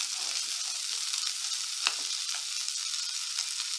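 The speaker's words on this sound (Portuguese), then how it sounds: "A gente vai refogar essa couve" Kale (couve) sautés in a pan with a steady, bright sizzle and crackle, and a brief scrape and clatter near the middle as it is stirred. No one speaks.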